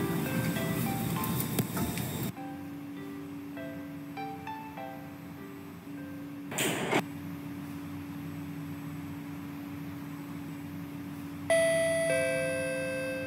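Door closing chime of a Hitachi & Nippon Sharyo C351A train in the OpenBVE train simulator game, a clear descending electronic tone sequence over steady cab hum, with a brief air burst and a later tonal signal.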